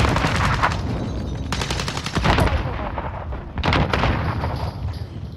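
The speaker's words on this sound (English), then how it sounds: "Taking fire over here" Rapid bursts of automatic gunfire from a Call of Duty Warzone match fill the space, dense and loud with repeated volleys and short pauses, layered over a constant rumbling battle backdrop.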